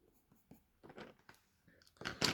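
Coloured pencil strokes on paper while drawing a realistic dog: faint, close, scratchy rubbing in short irregular bursts, growing denser and slightly louder toward the end.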